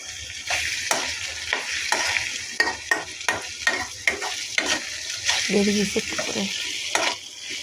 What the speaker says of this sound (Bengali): এগুলো সিদ্ধ হচ্ছে প্রায় শেষের দিকে